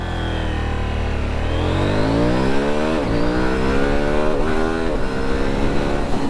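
A KTM Duke 790 motorcycle launches hard, its engine revving up in a rising, sustained climb with a brief shift dip partway through, loud and close with no voices.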